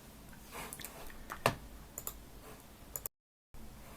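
A computer mouse clicking a submit button: a few light, quiet clicks with one sharper click near the middle, followed by a brief total dropout to silence.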